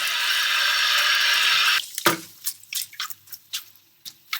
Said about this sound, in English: Just wash it off.